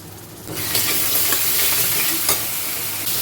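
Onions sizzle loudly and close in hot oil as garlic paste, ginger paste, turmeric and red chilli go in. A spatula stirs with occasional scrapes, and a sharp frying hiss rises after a brief quieter start.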